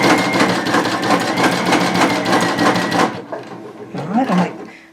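Baby Lock Sashiko BLQK2 sewing machine stitching: a loud, fast, steady mechanical chatter runs for about three seconds, then stops, followed by a few softer clicks and handling sounds.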